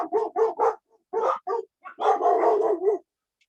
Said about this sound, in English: We have some barking going on in the neighborhood.